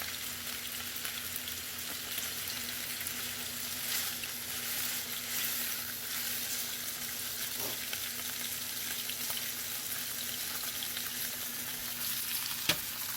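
Beef for birria sizzles and fries in a hot pan, a steady loud crackling hiss that runs unbroken, with one or two faint clicks near the end.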